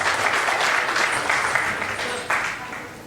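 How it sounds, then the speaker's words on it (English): A room of colleagues applauds an award winner at a corporate rewards and recognition ceremony, steady clapping filling the full three seconds at moderate loudness, with a brief swell near the end and faint voices beneath. "Round of applause, please."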